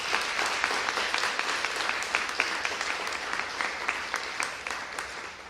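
An indoor audience claps steadily at a civic event, a sustained crowd of many hands at moderate distance, even and continuous without cheering.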